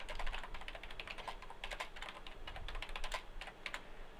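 A name is typed on a computer keyboard in a quiet room, a quick irregular run of soft, close key clicks with short pauses between bursts.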